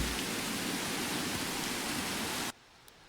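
Constant rain in a video game hisses evenly for over two seconds, then cuts off abruptly, leaving near silence with one tiny click.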